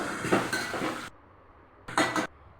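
A spoon stirs masala gravy for mutton shorwa in a metal pot, two bursts of scraping and clinking close by, separated by a short pause.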